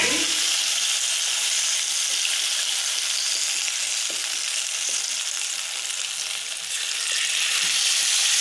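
Water poured into ginger paste frying in a pan over low heat, giving a loud, steady hiss and sizzle that holds close and continuous throughout, with faint stirring scrapes.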